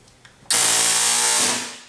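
A recoil simulator test machine fires a half inch BMG-level impact of about 3,500 Gs, starting with a sudden loud broadband blast that holds as a sustained roar for over a second, then tapers off.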